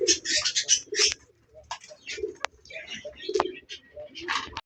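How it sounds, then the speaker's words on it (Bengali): A pair of Lahori pigeons coo at a pigeon farm, soft burbling calls repeating near and moderately loud, mixed with people talking throughout. "এখানে একজোড়া লাহোরি কবুতর আছে দেখার মতো খুবই সুন্দর"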